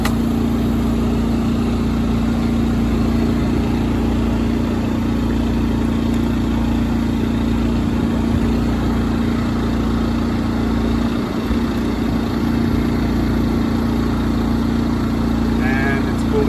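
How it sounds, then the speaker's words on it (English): A generator and air-conditioning compressor run through a summer power outage, making a loud, steady engine-like drone that holds without a break from start to finish. "You hear the generator, the compressor."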